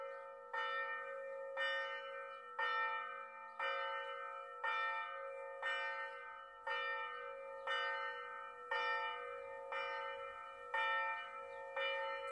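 A church bell tolls slowly in a quiet rural setting, with about a dozen clear, evenly spaced strikes, each ringing out and decaying before the next, over a faint low background.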